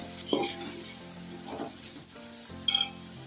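A vegetable and wheat flour dish sizzles steadily in a pan while being stirred, with a few louder scraping clinks of the spoon against the pan.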